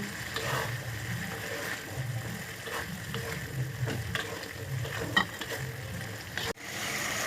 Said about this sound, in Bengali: এবার আমি এর মধ্যে ভেজে রাখা মাছগুলো অ্যাড করে দেব আর ভালো করে মিশিয়ে দেব